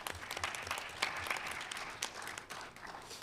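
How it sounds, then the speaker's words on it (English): Audience applause at a school board meeting: scattered, fairly faint clapping from a small group in a room, continuing steadily for a few seconds without talk. "And I think that deserves a big clap."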